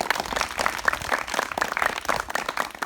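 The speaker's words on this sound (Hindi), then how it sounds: "तो एक बार ताली बजा दो।" A group of children clapping together at a cow shelter awareness session, a dense, steady patter of many small hands filling the whole stretch at moderate loudness, with no voices over it.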